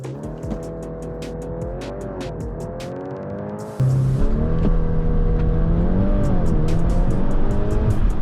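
A 2026 Volkswagen Golf R holds steady revs under launch control, then the engine note jumps louder as it launches and pulls hard, with rising and falling revs through the gears.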